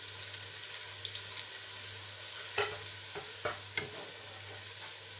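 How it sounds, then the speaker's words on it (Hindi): Chicken goes into a pot of browning onions for chicken pulao, giving a steady, close sizzle throughout, with a few sharper stirring scrapes and clinks midway. "अब हम इसके अंदर चिकन डालेंगे।"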